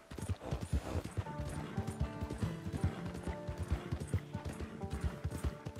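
Rhythmic hoofbeats clop quickly and steadily as a horse gallops in the video game Red Dead Redemption 2, with occasional mechanical clicks and a brief whinny.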